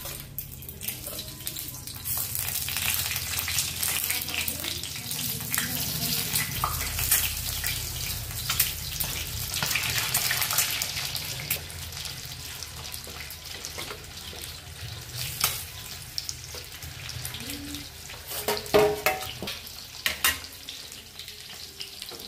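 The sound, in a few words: egg frying in oil on a griddle pan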